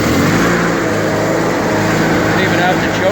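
A John Deere 316 garden tractor engine runs loud and close after starting, a rough continuous mechanical chugging with low rumble throughout.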